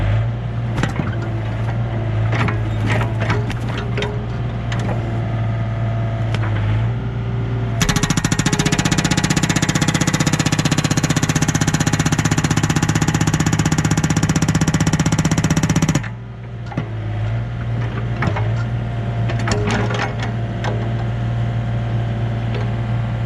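A cheap excavator's hydraulic hammer pounds pine wood. A loud, rapid stream of close hammering blows runs over a steady engine drone, then stops while the engine keeps running.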